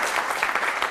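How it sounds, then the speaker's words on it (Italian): An audience at a Friuli youth event gives a professor a round of applause. A brief burst of steady, dense clapping is heard on its own. "Dai, fate un applauso"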